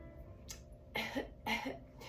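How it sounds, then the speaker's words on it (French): Two or three short coughs from a nearby person, quiet at first and then a pair of louder, rougher bursts. "Je couvre une petite toux"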